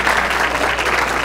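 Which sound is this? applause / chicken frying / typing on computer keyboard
applause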